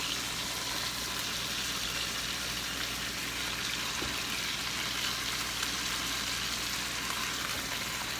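Pot roast browning in a pot with onions around it, giving a steady, faint sizzle with no talking.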